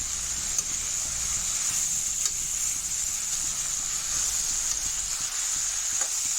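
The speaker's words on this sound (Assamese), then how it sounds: "এতিয়া মই ইয়াতে আদা নহৰু পেষ্ট যিখিনি ৰাখি থৈছিলোঁ সেইখিনি ইয়াতে দি দিম" Ginger garlic paste frying in a hot pan, a steady close sizzle and hiss with light stirring scrapes running throughout, no voices.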